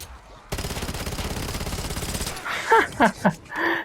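Rapid automatic gunfire from a Black Ops 7 Zombies weapon, a steady close burst emptying the magazine for nearly two seconds, then fading into scattered game effects and brief impacts.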